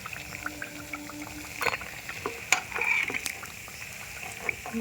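Chalkumro bora, ash gourd fritters, frying in hot oil, a soft steady sizzle with a few sharper crackles and pops standing out, with spoon stirring now and then close by, and no one speaking.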